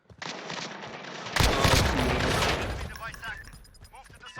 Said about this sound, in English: this is the AK